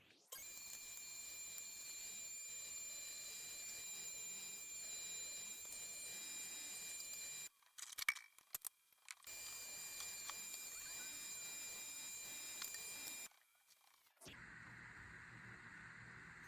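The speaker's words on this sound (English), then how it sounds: "I'm going to grind this meat and fat together." Meat grinder running steadily as it grinds deer meat and fat together for processing, a continuous loud motor whine lasting about thirteen seconds with brief interruptions and a quieter hum at the end.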